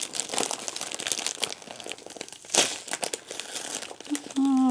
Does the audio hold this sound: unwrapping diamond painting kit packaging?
yes